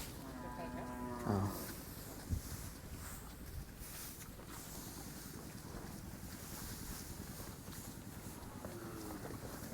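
A herd of 57 cattle is sold in Thailand. A couple of low moos rise out of steady outdoor wind noise.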